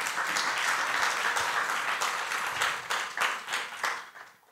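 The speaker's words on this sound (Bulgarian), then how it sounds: "Може ли да ръкопляскаме и да им благодарим?" An audience applauds an event's organisers with dense, sustained clapping from many hands that thins and fades out toward the end.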